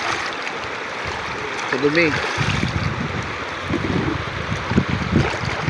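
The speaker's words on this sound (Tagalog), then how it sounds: "Nandito po kami sa gitna ng ilog. Naghuhugas sa mga pinagkainan." River water flows and churns around someone washing dishes midstream, a continuous rushing wash with splashes and knocks, while a voice speaks briefly over it.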